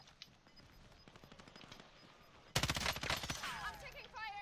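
Gunfire in the Warzone video game crackles in a fast rapid burst, loud and close after a quieter stretch of faint distant shots.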